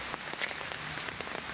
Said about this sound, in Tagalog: ulan na dito guys